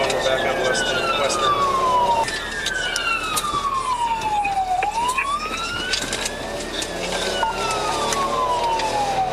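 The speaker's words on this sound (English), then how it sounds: "Ignoring police sirens and emergency lights, Derek raced through residential streets at high speeds" Police car siren wails and yelps loudly through a high-speed chase on residential streets, the pitch sweeping up and down continuously alongside road traffic noise, with radio chatter faintly underneath.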